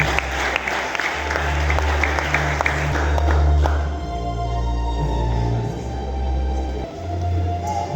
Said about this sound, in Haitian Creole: Alors, applaudissez.